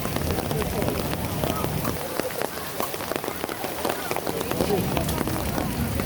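Steady rain pattering densely on surfaces in historic Colonial Williamsburg, a constant hiss with scattered drops, and faint voices in the background.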